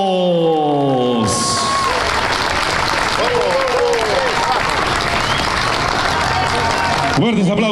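Outdoor audience in a plaza applauding the alumni band of Colegio Nacional Honorio Delgado Espinosa at a gala concert: a short tonal ending gives way to loud, dense, sustained clapping with some cheering, then stops abruptly near the end.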